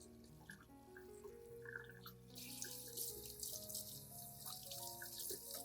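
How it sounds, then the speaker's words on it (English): A gentle, steady stream of tap water runs over orchid roots during rinsing, a continuous soft splashing close by with no voices. "When rinsing, use a gentle stream of water and handle carefully to avoid damaging the remaining healthy roots."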